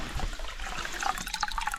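A small stream flowing at a trail water source near camp after recent rain, a steady close burble and trickle of running water with no voices.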